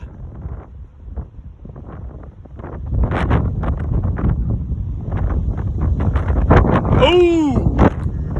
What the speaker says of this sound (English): This is the wind, and it's very gusty here to around 40 miles per hour.